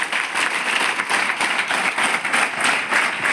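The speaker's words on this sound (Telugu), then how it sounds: "కనుక సార్ గట్టిగా చప్పట్లు కొట్టండి." Audience at a college motivational talk applauding steadily, a dense wash of many hands clapping with no talk over it, loud and sustained throughout.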